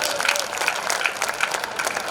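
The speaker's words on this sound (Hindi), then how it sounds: "तालियां बजा लीजिए।" Audience applause at a Hindi comic poetry gathering (kavi sammelan), a short burst of crowd clapping with uneven peaks, fairly close and without speech.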